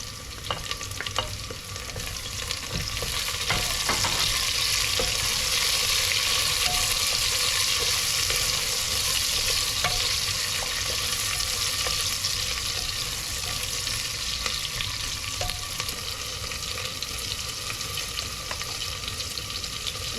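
Mutton trotters with chili sizzle in an Indian pressure cooker, making a loud, continuous frying hiss with occasional scraping of stirring.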